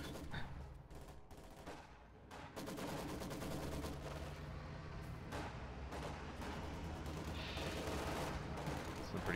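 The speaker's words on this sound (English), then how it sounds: "machine guns shooting at other machine guns over on the right." Dense machine-gun fire from a Company of Heroes 2 battle, including a German MG42 trading bursts with other machine guns, rattles continuously and loudly for the whole stretch, with sharp overlapping reports and one brief lull.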